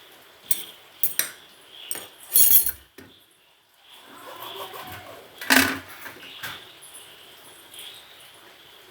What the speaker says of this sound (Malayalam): അപ്പം നമുക്ക് ആദ്യം തന്നെ ഫാഷൻ ഫ്രൂട്ട് ഒന്ന് കട്ട് ചെയ്ത് കൊടുക്കാം